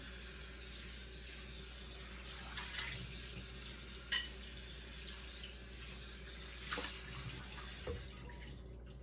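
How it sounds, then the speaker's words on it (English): Tap water runs steadily into a bowl as leftover grains are rinsed out while making sourdough bread batter, a continuous close splash with a couple of brief knocks from the bowl, no talking. "I'm going to rinse out my bowl and get the rest of the grains out so I don't waste any."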